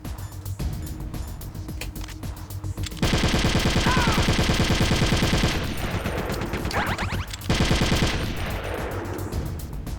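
Rapid automatic gunfire from the video game Metal Gear Solid: The Twin Snakes, two loud sustained bursts of rattling shots dense and close, separated by a short gap, with game ambience between.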